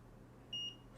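Multimeter continuity tester gives a single short, clean electronic beep in the middle of an otherwise quiet moment, faint and close, with no talking.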